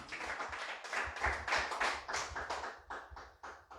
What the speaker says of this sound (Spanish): Dele fuerte aplauso al Señor.